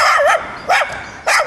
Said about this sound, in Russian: Скажи ей, чтоб не лаяла.